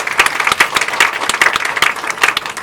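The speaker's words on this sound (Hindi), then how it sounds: "इसके लिए एक जोरदार तालियां बजनी चाहिए" Loud, dense applause from a studio audience at a public question session with a chief minister, steady crowd clapping filling the whole moment without talk.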